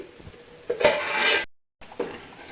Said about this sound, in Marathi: आता मी झाकण काढते